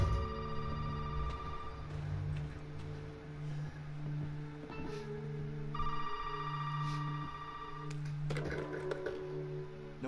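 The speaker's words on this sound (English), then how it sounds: "and the phone's ringing." A telephone rings in the video game Resident Evil 7, sounding as several steady ringing bursts separated by pauses over a low hum and ambient game noise, with no talk.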